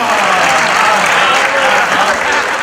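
Dense, loud applause from a live comedy show audience in Mehsana, steady broadband clapping filling the whole stretch with no gaps.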